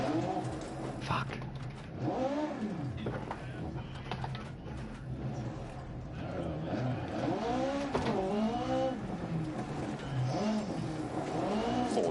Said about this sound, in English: Stock cars, man.